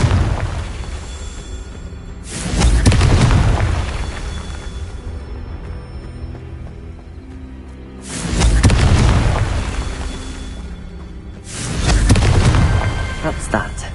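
Three deep, rumbling fiery blasts from the Confringo spell in Hogwarts Legacy, each swelling and fading over about two seconds, spaced several seconds apart with a quieter hum between.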